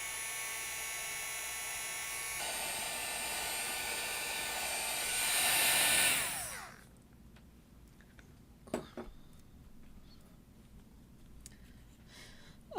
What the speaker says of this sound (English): I'm going to use my heat tool to dry this a little bit.